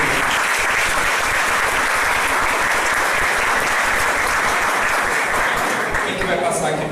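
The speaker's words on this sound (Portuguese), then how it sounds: "Salva de palmas." An audience at a family colloquium gives a loud, sustained round of applause, dense clapping filling the room evenly until it thins slightly at the end.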